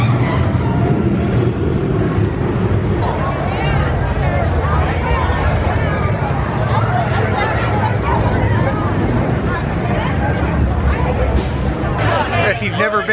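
The Rip Ride Rocket roller coaster running at a theme park during a Halloween Horror Nights event, a loud continuous rumble and rattling of cars on track with crowd chatter and voices throughout.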